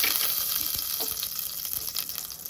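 Mustard seeds sizzle and crackle in hot oil inside a pressure cooker while tempering for sambar, a close, steady frying hiss with small pops and scattered spatters, no voices.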